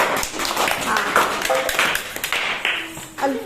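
Schoolchildren in a classroom clap for their classmates, a quick scatter of uneven hand claps mixed with chatter and children's voices.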